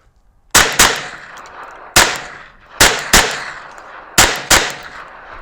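Ruger PC Carbine fired outdoors at long-range targets: seven loud, sharp shots, some in quick pairs, each ringing out with a decaying echo and no talk.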